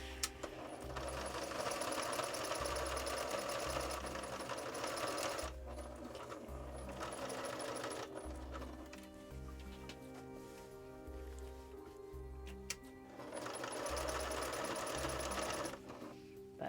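A sewing machine stitches through a quilted goose coat in loud, steady bursts of rapid mechanical chatter, pausing briefly between runs with faint handling noises in the gaps.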